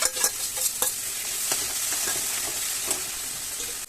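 Ground onion, tomato and ginger garlic paste sizzle steadily in a pan for crab soup, with a soft, continuous frying hiss. Several brief scraping stirs sound close by.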